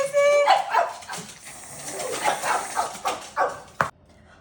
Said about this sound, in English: And the dogs are gonna go crazy.